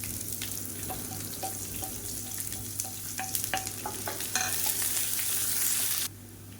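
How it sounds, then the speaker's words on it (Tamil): Chopped onions sizzle and fry in hot oil with roasted chana dal for a beans masala poriyal, with steady crackling and repeated scraping stirs close by, growing louder near the end before dropping off. "இப்போ இதில் பொடியை நறுக்குன்னா வெங்காயம் சேர்த்துக்கலாம்"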